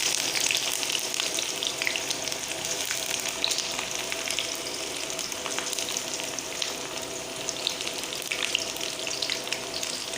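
Three large chopped onions fry in a pan with a dense, continuous crackling sizzle, loud and close throughout, with no pauses or voices.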